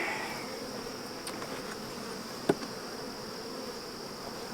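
Honeybees buzz around a hive frame during a beekeeping inspection, a faint continuous drone with one sharp knock partway through and no talking.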